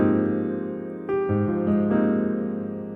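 Sustained piano chords with a deep bass note underneath, a few chord changes in a row, played close and clear with no talking.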